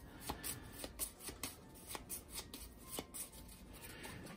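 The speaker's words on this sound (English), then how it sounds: "This goes right here, and these get shuffled." Arkham Horror board game cards being shuffled by hand close up, a run of crisp riffling flicks and soft papery slaps in an irregular rhythm, fairly quiet with no talk.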